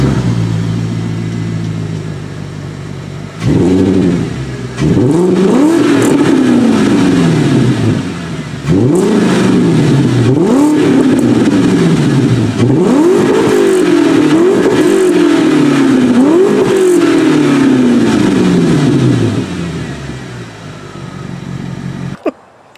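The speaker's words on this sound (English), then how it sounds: "show you right now what it sounds like with the current exhaust, which is Remus mufflers and no resonators" A VW car engine with Remus mufflers and no resonators revs repeatedly, rising and falling in several throaty bursts, loud and close, with a deep exhaust note and no talking.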